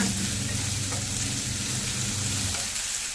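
Green chillies sizzle in hot oil in a pan, a loud, steady crackling fry that fills the whole moment without pause.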